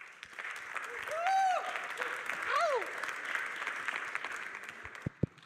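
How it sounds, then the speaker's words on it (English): An audience at the Pragma Prague 2025 conference applauds for a fireside chat guest, a steady hiss of clapping under a couple of brief whistling tones and a few sharp knocks near the end. "So please give him a big round of applause."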